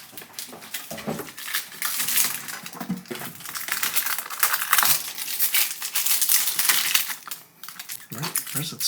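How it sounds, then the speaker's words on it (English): Protective plastic film is peeled off a newly unboxed Sanremo machine, giving close crinkling and tearing with scattered taps and knocks. Soft talk runs underneath in places. "This is actually kind of hard to peel off because it requires you to lift the machine to peel it off."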